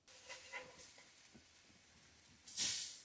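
Blackened fish sears in a hot pan with a faint, soft sizzle and a few light pops, then a sudden louder burst of hissing near the end.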